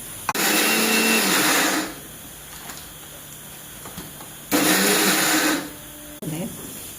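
A grinder coarsely milling peanuts for laddoos whirs loudly in two bursts of about one and a half seconds each, with quieter room sound between and a short clack near the end.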